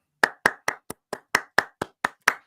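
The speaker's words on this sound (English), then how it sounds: "Give him a round of applause just for keeping the chat." Ten sharp hand claps in an even, brisk rhythm, close and loud, with no talk.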